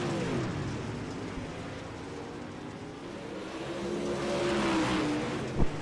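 UMP Modified dirt track race cars drive through turns three and four on the final lap of a heat race, engines droning and rising in pitch as they pass at moderate distance, with a sharp thump near the end.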